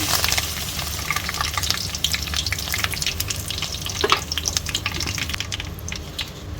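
Mustard seeds and curry leaves sizzle in 3-4 tablespoons of hot oil, a loud dense continuous frying hiss with rapid crackling spatters, heard alone and close.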